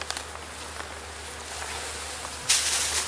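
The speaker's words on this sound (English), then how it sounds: "let's see how these bees are doing" Bees buzz in an opened hive being checked after winter: a steady, close, humming drone. A sudden louder burst of rustling noise hits near the end.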